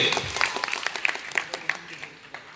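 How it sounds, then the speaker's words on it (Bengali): Audience applause for the children at a Bangabandhu Education Foundation scholarship award ceremony: a burst of claps, sharp individual hits over a fading wash, moderately near and tapering off within a few seconds. "ওদের জন্য এটা করতালি হবে"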